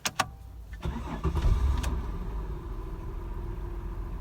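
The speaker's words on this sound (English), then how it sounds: "And then you should be able to start the car." A Holden VY Commodore engine cranks with a couple of sharp clicks, catches and settles into a steady, close idle that holds to the end, with no voices over it.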